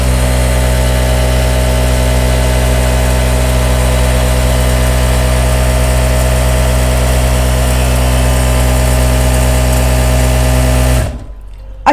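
A Jack A4C heavy duty sewing machine runs at full speed with a steady, dense mechanical hum and rapid vibration, loud and close throughout, then abruptly stops near the end.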